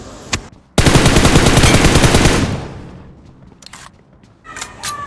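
Loud close bursts of rapid automatic gunfire in the BGMI battle royale mobile game, a sustained volley followed by quieter scattered shots.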